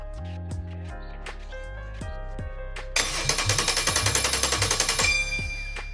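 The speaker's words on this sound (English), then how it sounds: "we can chuck some power to the starter" A starter motor cranks on a Metro 6R4 replica engine, a loud rapid mechanical chatter of pulsing strokes lasting about two seconds over background music before stopping.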